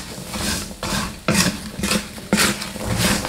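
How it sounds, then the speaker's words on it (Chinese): Salted peanuts with a handful of garlic, still damp from a baijiu marinade, are stir-fried in a wok, giving loud rattling scrapes and patters in repeated bursts as the spatula tosses them. "要不停的翻炒，炒干花生的水分，把花生炒熟"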